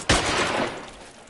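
A gunshot blasts in the video game LA Noire, one sharp, loud report followed by a short, rumbling decay.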